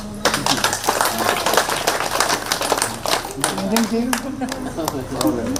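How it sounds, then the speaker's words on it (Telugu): A group at a meditative circumambulation gathering at Tiruvannamalai claps loudly in dense, fast, continuous bursts, with voices mixed in. "ఒకసారి గట్టిగా క్లాప్స్ చేద్దాం."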